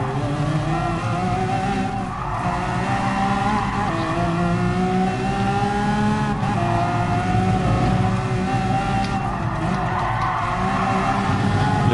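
A 2011 Lamborghini Aventador LP-700-4 racing in GT Sport, its V12 engine holding a loud, steady high-revving drone that climbs through gears, with brief lifts and tyre scrub, close and continuous throughout.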